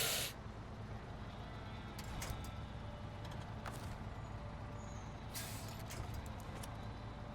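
Air brake release hiss from a truck's handbrake in SnowRunner, two brief sharp bursts standing out over a steady low engine rumble.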